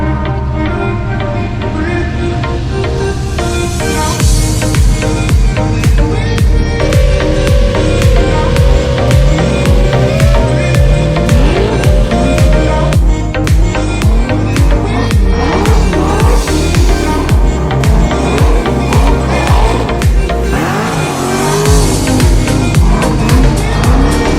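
Dodge Charger driving and drifting on a track, engine droning loudly and steadily throughout with shifting pitch sweeps as it slides, tire noise mixed in, no talk.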